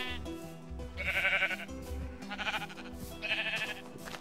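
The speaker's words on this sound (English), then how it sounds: "And then, of course, some sheep." Sheep bleat in a Lord of the Rings Shire building game, three or four loud, wavering calls close by over a low, pulsing background of game music, with no talk.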